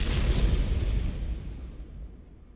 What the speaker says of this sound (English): An explosion explodes.